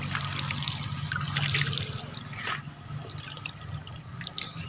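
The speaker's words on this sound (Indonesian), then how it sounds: "Untuk langkah terakhir ini saya siram pakai sama air starban" Water trickles and drips from a freshly watered bougainvillea bonsai, a steady splashing patter of drops landing close by, busier at first and then thinning to scattered drips.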